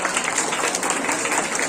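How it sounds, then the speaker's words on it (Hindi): Audience clapping for children at a community Islamic quiz event, a steady, dense wash of applause filling the whole short stretch with no pauses. "तालियां हो जाएंगी सारे बच्चों के"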